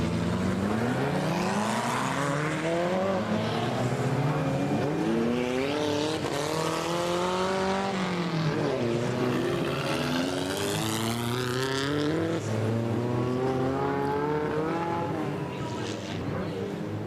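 Modified 2.1 stock cars race at a Border Stockcars meeting, engines roaring and revving in overlapping waves with passing surges and tire noise, loud and continuous with some speech underneath.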